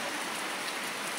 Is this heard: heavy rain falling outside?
yes